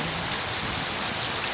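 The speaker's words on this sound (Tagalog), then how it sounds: "Ang lakas ng ulan, no?" Dense, steady rainfall hissing on surfaces, loud and continuous throughout with no voices.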